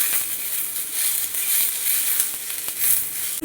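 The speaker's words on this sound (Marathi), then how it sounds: "2 मध्यम आकाराचे टोमॅटो मी इथे घेतले. ते पण आपल्याला चांगले मऊ होईपर्यंत भाजून घ्यायचे." Tomatoes and onion fry in a pan for Veg Maratha curry, giving a steady, close hiss and crackle that holds throughout with scattered small pops.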